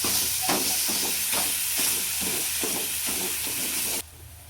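A spoon mashes garlic in a hot pan for pav bhaji, with steady sizzling and hissing throughout and soft repeated scraping taps before the sound drops suddenly near the end.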